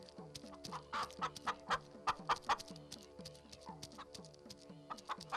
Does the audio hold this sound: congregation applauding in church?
no